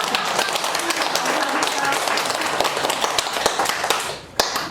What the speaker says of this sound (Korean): 세 분 세움 시스터즈 세 분에게 우리 박수 한번 쳐드리겠습니다